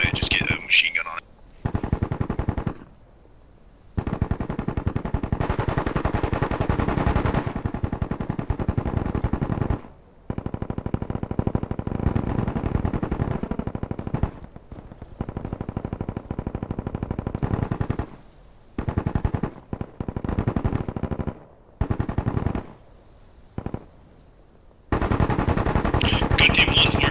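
Loud, sustained machine-gun fire in the war video game Bellum: long rattling bursts broken by brief pauses, with players talking over the shooting.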